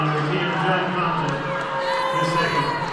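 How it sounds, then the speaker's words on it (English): A crowd of spectators at a Gate City vs Martinsville high school boys basketball playoff game counts aloud in unison while a player dribbles. The voices form a loud, rhythmic chant over the general arena clamor. "Some of the Gate City crowd counting along as Martinsville's dribbling"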